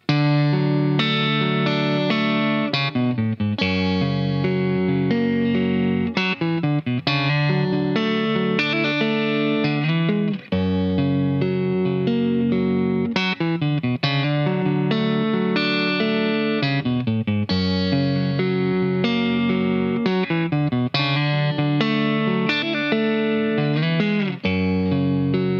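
Two electric guitar parts layered together, steady arpeggiated chords with chorus and light overdrive, continuous rhythmic plucking throughout at a constant level with no voices.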